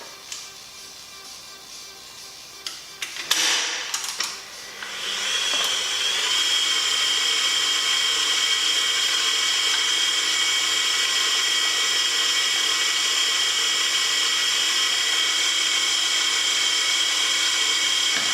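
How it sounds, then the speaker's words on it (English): A stand mixer works biscotti dough for bacon and chocolate biscotti. A brief clatter comes first, then the motor settles into a loud, steady, continuous whine close by, with no talking. "So just stop your mixer."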